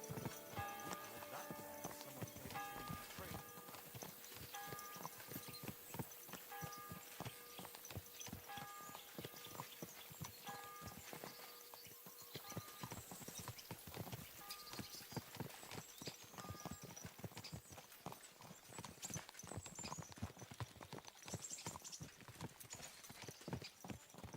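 Horse hooves clip-clop at a steady walking pace throughout in the video game Kingdom Come: Deliverance II, with a constant layered background of ambient noise and no voices.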